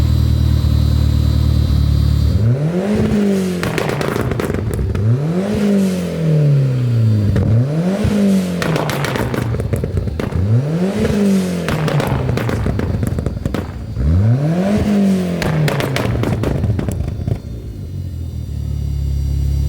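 An 1980s Ford Escort fitted with a roughly 300 hp rally engine revs hard from a standstill in five rhythmic sweeps, each climb ending in sharp crackling exhaust pops, loud and close with no talking.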